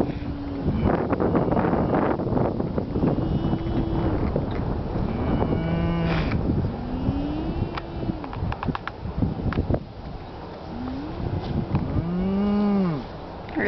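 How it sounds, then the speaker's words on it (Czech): Cattle in a pasture mooing repeatedly, several long drawn-out calls from different animals at varying distances, some close and loud, with wind buffeting the microphone between them. "Kde mám tu kravičku, táto?"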